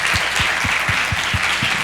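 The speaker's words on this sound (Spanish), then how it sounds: "pido un aplauso para ellos" An audience claps for the organisers at a live event, a dense, continuous burst of applause with a few louder individual claps near the front, brief and without speech.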